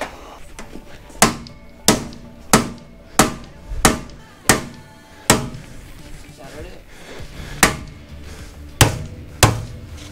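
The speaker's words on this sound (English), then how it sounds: "I need a hammer." A hammer strikes a dozen times in sharp, close, irregularly spaced blows, each ringing briefly before the next hit.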